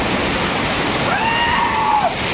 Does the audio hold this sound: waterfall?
yes